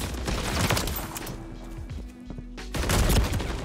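Gunfire in a first-person shooter game: several sharp shots burst out near the start and again near the end, with a brief lull between, loud and close over a busy game soundscape.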